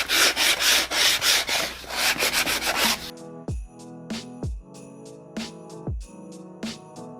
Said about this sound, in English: I have this sanding block from Dollar Tree that I'm going to use to just sand that off just a little bit